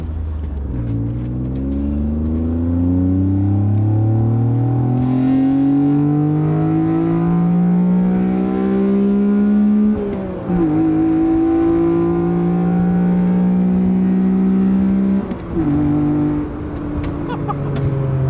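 A 30-year-old Japanese kei car engine revs loudly and continuously, pitch climbing through the gears with two brief dips at shifts, close and steady throughout.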